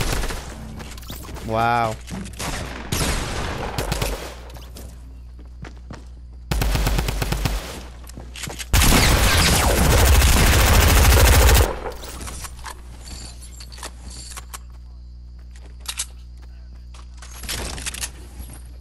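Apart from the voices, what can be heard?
gunfire in a video game squad match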